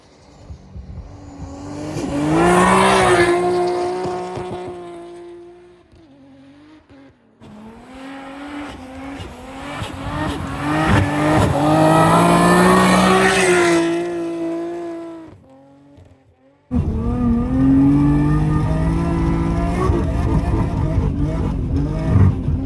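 Nissan Skyline GT-R (R32/R34) driving on snowy Finnish streets, engine revving up and easing off in repeated surges, with a sharp tonal whine climbing and falling, then a loud sustained pull near the end.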